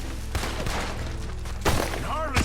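Gunfire from a Red Dead Redemption 2 shootout, heard as a few sharp shots under a busy mix of shouting voices and action noise, with louder cracks near the end.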